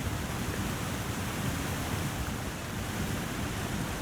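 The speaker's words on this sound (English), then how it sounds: "very pretty waterfall" A waterfall in the video game The Long Dark produces a constant, dense roar of rushing water, steady and fairly loud with no breaks for the full few seconds.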